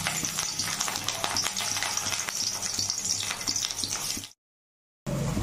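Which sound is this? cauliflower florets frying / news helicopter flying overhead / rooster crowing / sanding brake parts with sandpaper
cauliflower florets frying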